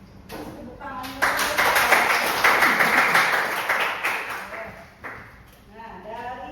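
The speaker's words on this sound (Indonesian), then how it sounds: "Oke, tepuk tangan dulu." A class of students applauding during a teaching session, brief lively clapping of a few seconds that swells and then fades, with a person talking before and after the clapping.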